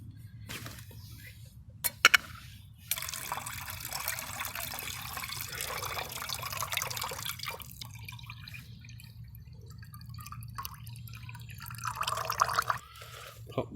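Water gravity-feeding through a filter into a pot at a survival camp, a steady soft trickle and dripping running for most of the stretch with a few faint clinks, close and fairly quiet, no talking.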